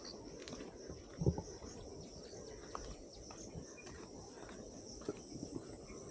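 Crickets keep up a steady background trill on a cloudy late afternoon near a canal birding spot, with a few faint bird chirps and soft rustles scattered through it.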